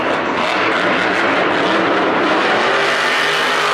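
Monster truck engine at a Monster Jam stadium show roars at full throttle, a loud, sustained, broad rumbling blare with no pause and no voices on top.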